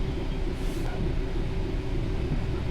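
DRS Class 66 freight train rolling through Hoo Junction Yard, a steady low rumble with a constant mechanical hum, continuous and fairly near, with no talking.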